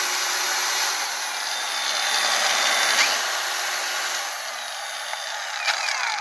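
Forte AG-21BC cordless brushless angle grinder cutting, a loud steady high-pitched whine held close throughout with slight dips in pitch as the disc bites.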